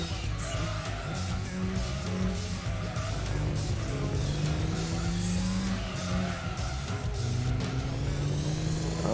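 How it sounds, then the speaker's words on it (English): A BTCC touring race car at full throttle in Gran Turismo 2, engine note rising steadily through the gears, loud and continuous, with tire squeal mixed in. "Full throttle exiting the tunnel there, that is wild."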